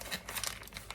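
A plastic 2-gallon marinating bag crinkles and rustles close by as it is handled, a soft, continuous crackle lasting about a second.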